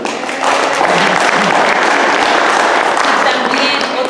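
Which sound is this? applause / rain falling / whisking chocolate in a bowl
applause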